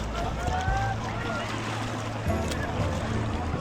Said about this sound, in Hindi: चप्पू वाली बोट है।